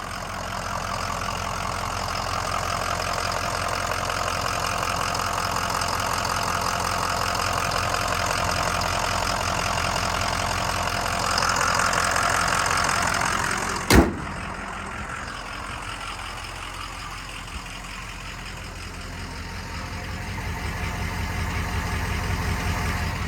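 A Ford Excursion Limited with a 6.0L Powerstroke diesel V8 and 4WD idles steadily close by with a low, even rumble, broken once by a single sharp knock near the middle.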